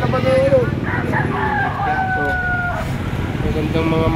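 A rooster crows loudly nearby while chickens cluck around it, all under steady conversation in the background.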